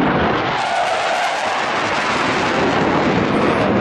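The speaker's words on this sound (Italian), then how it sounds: "Rombo dei motori." Panavia Tornado jet engines at the Jesolo European Airshow, a loud, continuous broadband roar that fills the whole clip with rushing wind noise.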